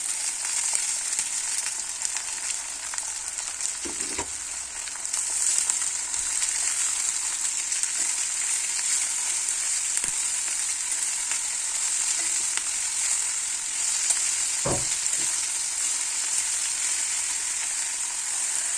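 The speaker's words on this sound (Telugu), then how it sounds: "2 ఒకసారి వేసుకొని ఫ్రై చేసుకోవాలి." Onions and capsicum frying together in a pan for a curry, a faint continuous sizzle running throughout with a couple of brief knocks of stirring.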